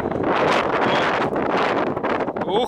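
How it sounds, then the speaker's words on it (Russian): Strong gusts of wind buffet the microphone outdoors during a goose hunt near Saratov, with loud, rough rumbling that surges and dips, and a voice briefly at the end. "надеюсь, слышно в камеру ветер."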